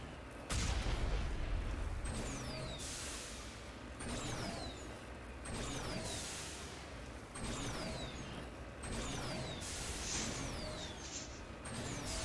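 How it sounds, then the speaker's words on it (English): Repeated heavy cannon blasts from the Mako vehicle in Mass Effect fire at a steady pace, roughly every one and a half seconds, each followed by a descending whine over a loud rumbling background. "RB to fire your cannon."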